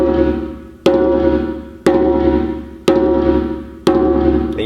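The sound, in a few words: djembe open tone hand strikes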